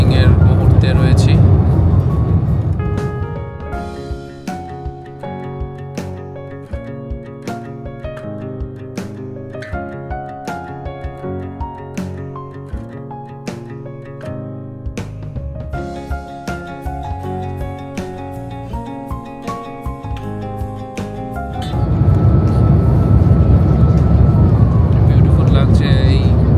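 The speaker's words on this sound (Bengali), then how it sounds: "অতএব এবার আমরা ল্যান্ডিং এর মুহূর্তে রয়েছি।" A Qatar Airways airliner landing, heard from inside the economy cabin: a loud, broad engine and airflow roar at the start and end, with a quieter stretch of steady tonal sound in between.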